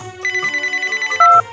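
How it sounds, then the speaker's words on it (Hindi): A phone ringtone sounds during a Diwali family gathering: a loud, bright electronic melody of repeated short tones, then a sustained higher note near the end, with no talk over it. "जरा एक फोन आ गया प्लीज, अर्जेंट"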